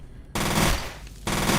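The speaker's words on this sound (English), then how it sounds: "I mean, I'm shooting and it's doing something." Automatic weapon fire from the video game F.E.A.R. played on Xbox Series X: a quieter burst, then two loud sustained runs of rapid shots separated by a brief dip, with no talking.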